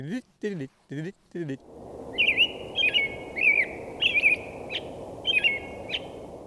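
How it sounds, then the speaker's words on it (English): A person speaks briefly, then an American robin sings alone in warbled phrases that rise and fall, repeated in short bursts over a low background hum. "So, sing-songy birds. American robin, perfect example."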